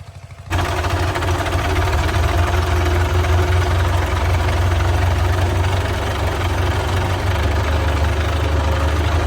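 A water pump engine for irrigating a potato field starts abruptly after half a second and runs loud and steady, a heavy low throbbing idle with rapid knocking pulses, close by, with no talking.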